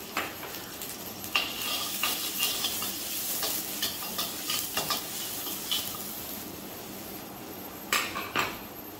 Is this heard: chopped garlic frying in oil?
yes